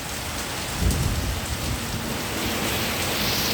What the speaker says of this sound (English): I think we're getting a storm.